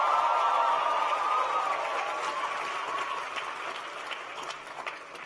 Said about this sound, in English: Please give Emmanuel a big round of applause.